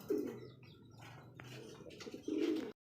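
A pigeon gives soft, low cooing calls, one at the start and another near the end, close by in a fairly quiet setting.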